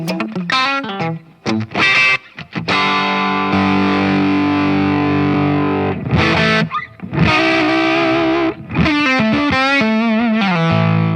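An electric guitar with a warped, out-of-phase effect through an amp plays heavily distorted bursts of chords and notes, broken by short pauses and sustained ringing tones, with no talking.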